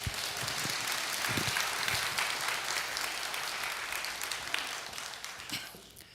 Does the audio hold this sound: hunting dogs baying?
no